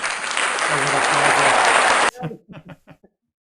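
Audience applause at a live music stream fills the first two seconds, dense and steady, then cuts off abruptly into a few scattered claps and faint voices.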